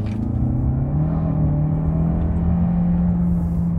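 Audi Q3 Sportback 45 TFSI e plug-in hybrid with 245 hp and a six-speed DSG gearbox, accelerating in dynamic drive mode, heard from inside as a steady, loud low engine drone and road rumble with no talk.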